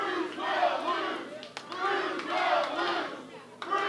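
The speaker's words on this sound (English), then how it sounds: "He heard the crowd chanting." A large crowd at a professional wrestling event chants in loud, rhythmic waves of voices, swelling and falling a few times, with a couple of sharp claps or bangs between.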